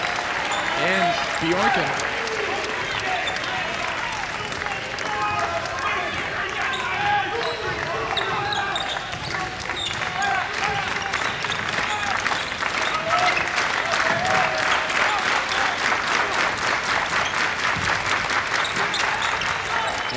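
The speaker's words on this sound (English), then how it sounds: "Big round of applause" Crowd applause fills a 1997 men's college basketball game between BV and Wartburg, steady clapping and cheering throughout with sneaker squeaks and ball bounces mixed in, while an announcer talks over it.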